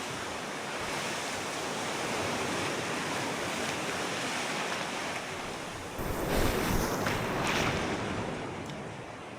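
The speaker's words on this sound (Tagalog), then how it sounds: "Ang lalaki ng alon." Large ocean waves surging and crashing in a steady broadband roar with gusting wind, swelling louder toward the end, heard from a boat at sea with no talk.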